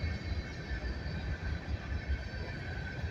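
A long coal train rolls steadily past on the Abbeville–Monroe line, a continuous low rumble of wheels and cars with a faint high hiss, moderately distant and unbroken throughout.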